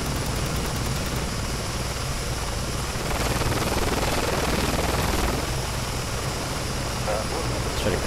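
Engine and rotor drone of a WAC aircraft in the Garry's Mod game, a steady loud whine and roar held throughout with a brief burst of added noise in the middle.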